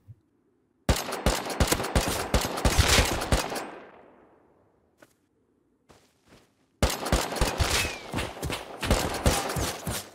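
Rapid bursts of gunfire in the video game Rust, a loud automatic volley fading out, a few isolated single shots, then another sustained burst of rapid firing.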